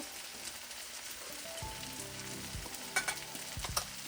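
Onions frying in a pan for masala arbi, a faint, even sizzle that is joined partway through by a few soft stirring scrapes and clinks.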